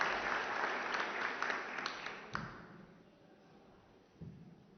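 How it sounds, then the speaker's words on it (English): A round of applause from a press conference audience at the Ukraine Recovery Conference 2024, marking a signing between Finance in Motion and Ukrgaz Bank; dense clapping that thins and fades out over a few seconds, with a faint knock afterward. "A round of applause for the signing between Finance in Motion and Ukrgaz Bank."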